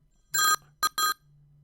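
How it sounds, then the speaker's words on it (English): Telephone ringing for a callback call, a short electronic ring burst followed by two quicker bursts, clear and close over a low steady hum. "when the provider hits callback, what's going to happen is it's first going to call the provider"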